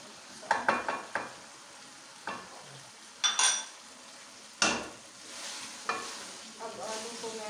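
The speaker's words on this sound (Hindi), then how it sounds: "अब आलू को मैं 3-4 मिनट तक भूनूँगी" Potatoes fry in a pan with cumin and coriander powder: a soft sizzle sits under a series of sharp spatula scrapes and metallic clinks against the pan, spread irregularly across the clip, with no talking.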